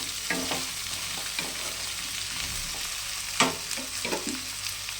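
Potato, beans, brinjal and pumpkin fry together in a pan, a steady close sizzle broken by a few scraping stirs and clunks of the spatula, with no talk.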